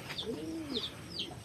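Pigeons at a loft giving a faint, low coo with a couple of brief higher chirps, quiet and fairly distant over a soft background hiss.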